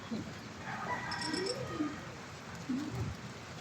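Soft cooing calls of birds, a few short low coos spaced apart, fairly close but quiet against a faint background hiss.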